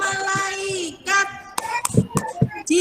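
Children and a teacher in a classroom playing the tepuk malaikat clapping game, a rhythmic run of sharp hand claps in quick patterned bursts, mixed with sung and chanted voices.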